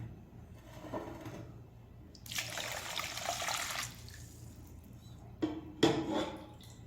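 Two and a half cups of water pour into a pan for apple murabba syrup, a soft splashing rush lasting a couple of seconds, then a brief clink of the pan, faint and close in a home kitchen.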